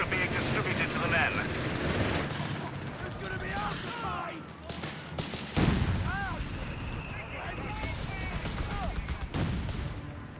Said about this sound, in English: getting some force reorganized and tank grenades and rifle grenades obviously finally happening here